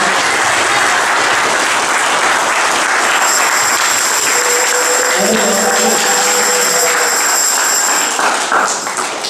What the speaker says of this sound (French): Können wir für den Herrn applaudieren?